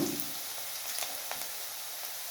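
Spice paste fries in a pan until nearly brown, giving a soft, steady sizzle with faint crackles close by, quiet and continuous for a couple of seconds.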